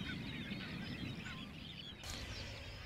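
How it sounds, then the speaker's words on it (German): A flock of brent geese calls continuously on a Wadden Sea hallig, a dense chorus of low, rolling honks and murmurs that persists steadily throughout, with no talking. "Die Ringelgänse rufen die ganze Zeit und man hört oft so ein Rott"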